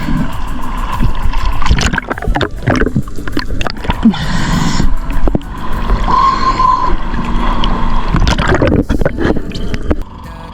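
A boat motor hums steadily over splashing water as the boat approaches, with a brief higher whine in the middle and a few sharp knocks, sounding fairly close.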